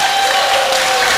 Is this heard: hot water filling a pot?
no